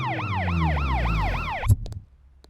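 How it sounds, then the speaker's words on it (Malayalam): An ambulance siren wails loud and close in a rapid, repeating rise-and-fall sweep for nearly two seconds, then cuts off abruptly with a heavy thump and a brief clatter before fading to quiet. "ആംബുലൻസ്!"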